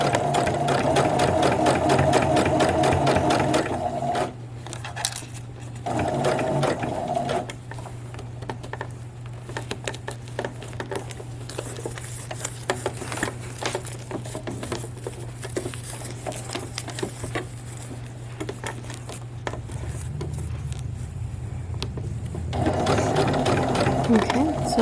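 A sewing machine stitches a straight seam while taking in a formal dress, its motor running in steady, even bursts with brief pauses and a long continuous run in the middle, close and fairly loud.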